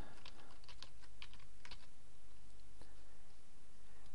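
A username is typed on a computer keyboard as a quick run of crisp, close keystrokes in the first two seconds, followed by a lone tap over steady low background noise.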